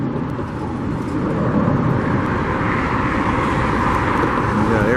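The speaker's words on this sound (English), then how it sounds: "You got an airplane up there somewhere." An airplane passes overhead above the Allegiant Stadium construction site in Las Vegas, a steady, broad engine roar holding at moderate level and building slightly toward the end.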